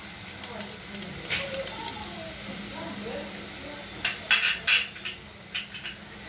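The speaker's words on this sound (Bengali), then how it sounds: "হালকা একটু ভাজা ভাজা করব।" A banana flower mixture fries lightly in a pan with a soft continuous sizzle, metal clinks and spoon scrapes growing louder toward the end, and a voice talks over it.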